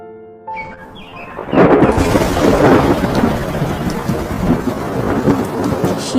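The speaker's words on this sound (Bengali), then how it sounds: "শীতের এক ভয়ঙ্কর ঝড় বৃষ্টির রাতে খাটু একটা জালে আটকে যায়।" Cartoon storm on a cold winter night: a loud crack of thunder breaks in after brief quiet music, followed by heavy steady rain and rumbling that fill the rest.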